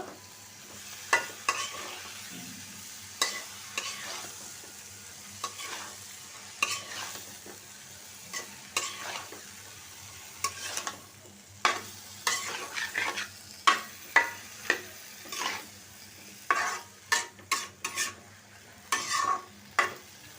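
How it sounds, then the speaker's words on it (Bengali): Roughly a kilogram of cut potatoes mixed with spices is stirred in a frying pan, with repeated scraping strokes at an uneven rhythm over a faint, constant sizzle, close up and without talk. "প্রায় এক কেজি আলু কেটে নিছি মশলার সাথে ভালো করে মিশিয়ে দিব"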